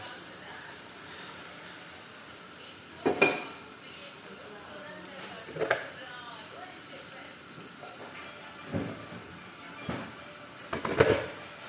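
Soft, steady sizzling as milk is stirred in a hot pan, with a few brief scraping stirs every couple of seconds, close and fairly quiet.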